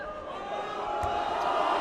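Large arena crowd of mostly Filipino fans jeering a Japanese basketball player during a Terrific 12 game between San Miguel Beermen and Ryukyu Golden Kings, a sustained, steady roar of voices that builds slightly, with a thump or two from the court.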